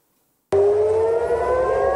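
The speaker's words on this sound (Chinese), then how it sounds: "以色列台拉维夫响起了空袭警报。" An air raid siren in Tel Aviv, Israel, cuts in abruptly after a half-second of silence and holds a loud, steady wail that rises slightly in pitch.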